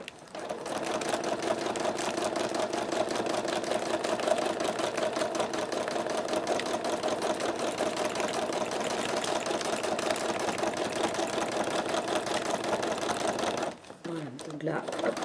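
A sewing machine stitches a quilt with a steady, fast mechanical whirr for most of the run, stopping near the end for a few slow stitches in place; a person talks over it.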